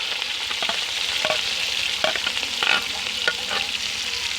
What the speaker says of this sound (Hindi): इसमें हम प्याज डाल देंगे।